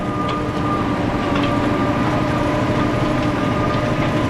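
A tractor pulls a Kongskilde Delta cultivator across a field at night, a loud, steady low engine drone with constant rumble and no pauses.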